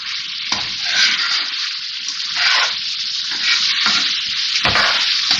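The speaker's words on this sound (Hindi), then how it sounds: "भूनती भी जा रही हूँ मैं, और इसकी बोटियों को इस तरह से तोड़ती भी जा रही हूँ।" Chicken pieces frying on a tawa while being stirred and broken apart, Lahore street-food style: a loud, dense, close sizzle with rhythmic surges as the spatula scrapes and turns the meat.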